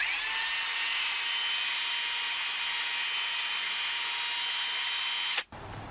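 Whining electric drill spinning a toothpick wrapped in sandpaper inside a hole in a guitar fretboard, a steady high buzz that runs for several seconds and then cuts off abruptly.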